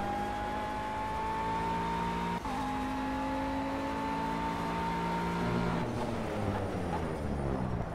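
McLaren GT3 race car in Project CARS at the Catalunya circuit, its engine revving steadily high and dropping sharply at each upshift, two quick shifts heard loud and close with no talk over it.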